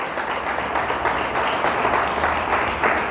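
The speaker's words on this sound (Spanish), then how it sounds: "Dale fuerte el aplauso a Dios" Steady applause from a church congregation fills the space, dense clapping sustained at a fairly loud, even level throughout with no break.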